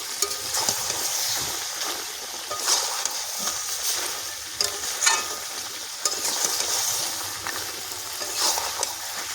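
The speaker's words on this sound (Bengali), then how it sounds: "চাপা খুলে বারে বারে নাড়তে হবে।" Mutton curry is stirred in a pot under a steady low sizzle, with repeated scraping strokes of the spoon against the bottom at a loose rhythm.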